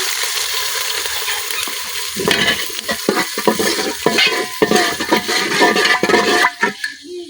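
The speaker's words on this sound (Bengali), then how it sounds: "পেঁয়াজের সাথে আদা রসুন বাটাটা কিছুক্ষণ ভাজা নিছি" Sliced onions frying with ginger-garlic paste in a pan, a steady hiss of sizzling oil broken by bursts of stirring and scraping against the cookware, close and fairly loud.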